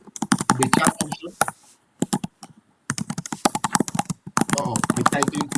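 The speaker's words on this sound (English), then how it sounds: "It looks like the system captured my typing and it is the mic is very sharp." Fast typing on a computer keyboard picked up by a sensitive microphone during an online town hall, dense bursts of clicks in rapid runs with brief pauses, fairly close and clear, with talk mixed in.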